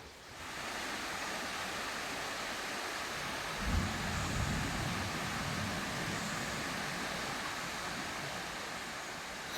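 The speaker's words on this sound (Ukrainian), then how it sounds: "Греметь, греметь чути." Distant thunder rolls as a low, drawn-out rumble over a steady wash of outdoor noise on a mountain walk under storm clouds.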